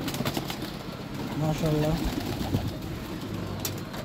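On a pigeon farm, a pigeon gives one soft, throaty coo midway, set against a busy background with a person speaking nearby.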